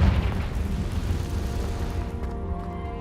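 A Confringo blasting spell detonates in Hogwarts Legacy, a loud booming burst that rumbles and fades over a few seconds, heard alone with no voices.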